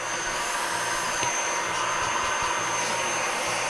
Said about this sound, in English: I feel like there's a tremendous amount of suction here, as if this still has a clog in it.